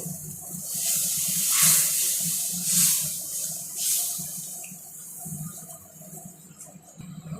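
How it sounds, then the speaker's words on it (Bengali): Water poured into a pot of pabda fish curry, a steady splashing, hissing stream with a few surging gushes over a low background rumble, close and fairly loud. "এখন জলটা দিয়ে দিচ্ছি।"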